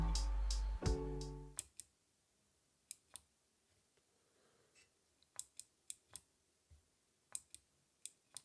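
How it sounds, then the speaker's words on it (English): A faulty Blackstar guitar amp that won't power on makes sharp, isolated clicks at irregular intervals, some in quick pairs, loud and close in a quiet room after a brief burst of louder noise at the start. "Clicking sound there."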